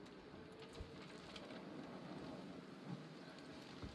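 Wind gusts across an open landscape in the survival video game The Long Dark, a low, steady rushing roar with faint buffeting thumps and no speech.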